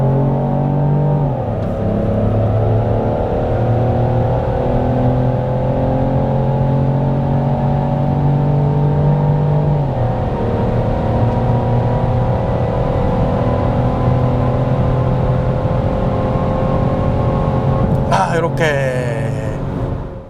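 Peugeot 3008 with the 1.2 PureTech petrol engine cruising through a road tunnel, a steady loud droning engine and road roar with shifting tonal hum, and a brief whooshing pass near the end.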